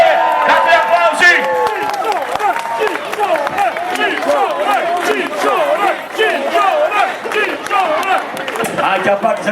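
Outdoor concert crowd in Sarno applauding and cheering, a dense loud wash of clapping and shouts with a singer's voice carrying over it throughout.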